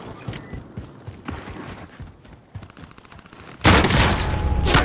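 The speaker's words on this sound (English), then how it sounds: "I'm under fire." Gunfire in the video game Call of Duty Modern Warfare: scattered faint shots and clanks give way to a sudden loud, sustained burst of rapid fire near the end.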